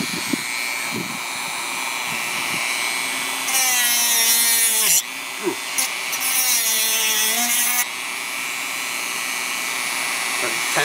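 A power cutter grinds through bald eagle bone for a choker, a loud high-pitched whining cut in two long passes over a constant motor drone, with some brief knocks in between.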